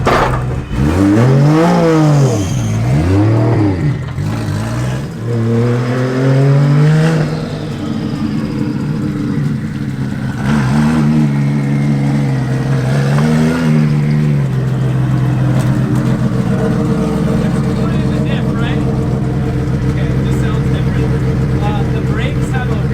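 Drift car engine revving during a brake test at Driftmasters testing, loud rising and falling revs that sweep up and down several times before settling into a steady idle-like drone, close and continuous throughout.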